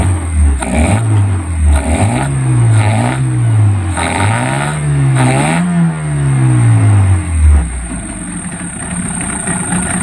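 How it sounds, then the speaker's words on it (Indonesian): A Yamaha 15 hp outboard motor that had been submerged in seawater is pulled with the choke out and fires up, its engine note wavering and revving unevenly before settling into a loud, close, steady running idle. "Kita pompa kembali lagi, kemudian kita tarik cok, lalu kita start."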